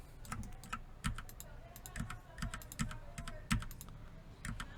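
Fast bursts of clicky keystrokes on a computer keyboard as shortcuts are typed in Blender, close and steady, with brief pauses between clusters and a faint background hum.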